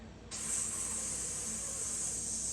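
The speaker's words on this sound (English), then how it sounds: "it's going to shoot a steady flow of steam from this vent pipe right here" A pressure canner holding home-canned garden carrots starts venting steam from its vent pipe, a sudden close, steady hiss that holds on without a break.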